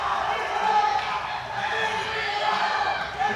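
A powerlifting crowd at a European sub-junior and junior championship roars and cheers wildly before a deciding deadlift, a loud, sustained wall of voices and whoops, with an announcer talking over it.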